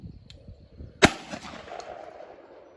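A single sharp, loud shot from a Beretta 1301 shotgun firing a Remington shell rings out, followed by a short fading echo, with quiet outdoor background before and after.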